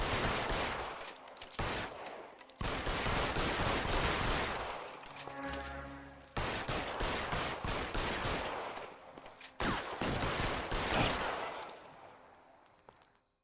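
Gunfire in the video game L.A. Noire, bursts of rapid loud shots with ringing echoes, broken by brief pauses and a held tone in the middle, fading toward the end.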